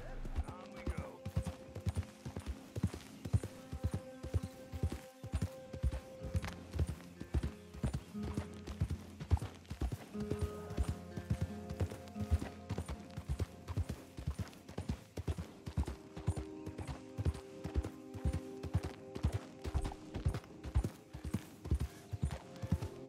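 Horse hooves clip-clop in a steady, even rhythm on a hard surface in the video game Red Dead Redemption II, with someone talking intermittently over the hoofbeats.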